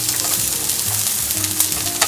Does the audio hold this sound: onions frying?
yes